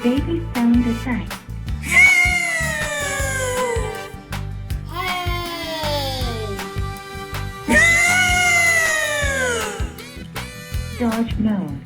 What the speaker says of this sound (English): Baby sound effect.